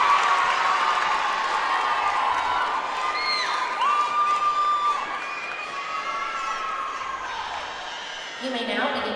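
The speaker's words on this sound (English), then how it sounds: "Hands clapping and they're excited." An audience at a high school competitive dance prelim cheers, whoops and claps loudly as a dance team takes the floor, a steady crowd roar lasting throughout.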